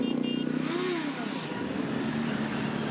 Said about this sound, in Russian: Под рев мотоциклов и моторов машин симферопольцы и гости столицы пронеслись по проспекту Кирова